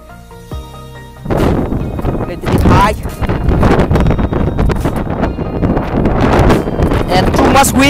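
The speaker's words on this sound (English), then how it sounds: "And too much windy from here" Gusty wind buffets the microphone on a cold hilltop at Kai Kung Leng in loud roaring bursts, rising and falling over several seconds after a brief quieter start.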